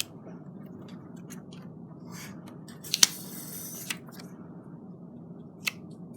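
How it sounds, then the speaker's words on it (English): Scissors snip through a scrap acetate sheet with a few sharp, quiet cuts, one crisp snap standing out, close by in a quiet room. "so I'm going to get some scissors and trim that up."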